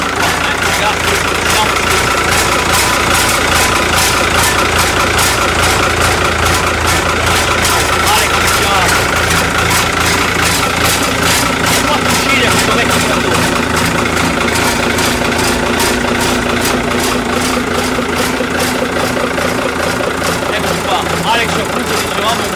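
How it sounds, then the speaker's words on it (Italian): A FIAT 1000 GT Super tractor of about 110 horsepower idles close by, its diesel engine giving a steady, loud, rhythmic chugging with a rapid regular knock throughout, while people talk over it. "un bellissimo trattore. Via, 1000 GT Super, eccolo qua"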